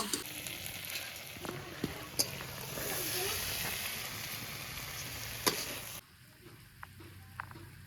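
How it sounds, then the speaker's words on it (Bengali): Malabar spinach and potato fry in a pan with a continuous close hiss and sizzle, dotted with small ticks and pops; the sizzle cuts off sharply near the end, leaving quiet clicks. "পুঁই শাকটা একদম ভাজা ভাজা করে নিয়েছি"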